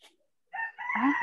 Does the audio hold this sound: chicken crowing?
yes